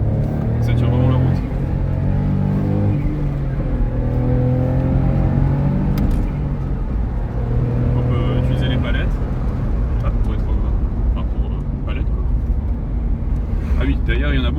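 Coupé car driving on the road with its engine revving and pulling, a steady close engine drone and rumble throughout, with someone talking over it in French.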